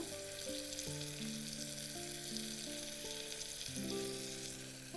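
Whole cashews fry in a pan for a jackfruit seed biryani, giving a steady, fine sizzling hiss throughout with soft melodic tones underneath.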